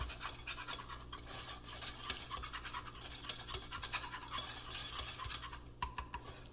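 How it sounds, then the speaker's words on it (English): A whisk stirs banana blondie batter in a bowl with quick, steady scraping and clinking strokes that keep a soft, continuous rhythm, close and fairly quiet with no talking. "now I'm whisking it all together"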